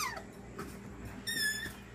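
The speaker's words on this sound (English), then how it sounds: "I don't know how many of you have a freezer that does this" A household freezer gives off short high squeaks, thin rising tones in a quiet room, with a louder wavering squeal near the end.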